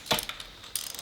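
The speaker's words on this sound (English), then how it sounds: "We'll see if I can turn it with this little guy wrench here." Ratchet wrench clicking as it turns the rotating assembly of a rebuilt Ford 351M engine from a 1977 F250, two short bursts of quick close mechanical clicks.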